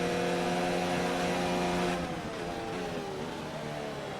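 Formula 1 race cars in a racing video game at the Japanese GP, engines screaming at high revs with steady harmonic whine, a loud pass that shifts pitch downward as the cars sweep by, continuous and close.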